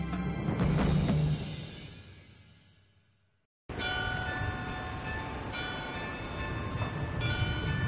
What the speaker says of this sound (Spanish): El primer tranvía circula.